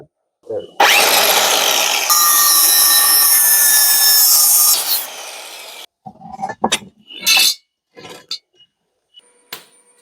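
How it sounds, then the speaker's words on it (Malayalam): A power cutter grinds through metal rod in one loud, whining stretch of about four seconds, followed by scattered clanks and short metallic knocks. "ചെറിയ കമ്പികളും കൂടി അളവെടുത്ത് മുറിക്കുവാണേ"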